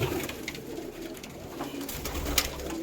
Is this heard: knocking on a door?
no